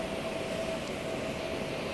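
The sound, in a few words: riding a London train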